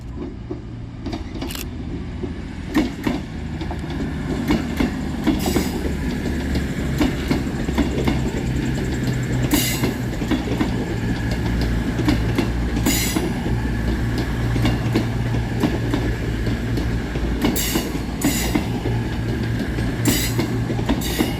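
Two coupled Avanti West Coast diesel units, 221104 and 221108, depart platform 11 at Crewe railway station with a steady engine rumble, rhythmic wheel clatter and occasional squeals, loud and close throughout.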